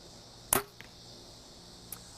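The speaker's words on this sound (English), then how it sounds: "I'm going to go ahead and shoot this arrow so you guys can see in slow motion how it's flying out of my bow." An arrow tipped with a broadhead and fitted with a lighted nock is released from a hunting bow. It makes one sharp, loud snap and whoosh, followed by faint ticks in an otherwise quiet outdoor setting.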